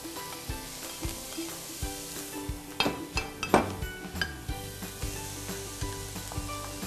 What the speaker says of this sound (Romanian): Deja se aude cum scurie.